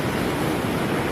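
Waves break and wash along a rocky sea shore where swimmers bathe, a steady broadband rush of surf that stays close and fairly loud through the whole short stretch, with no voices.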